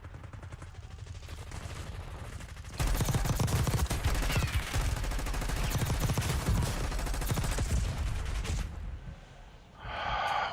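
Rapid, sustained automatic gunfire from a video game bursts in after a quieter stretch, rattling loud and continuous for several seconds before cutting off abruptly.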